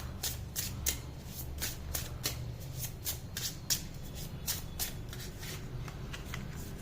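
Tarot cards are shuffled and drawn in a quiet room, with close, crisp riffling and slapping in a quick, uneven rhythm of sharp paper snaps.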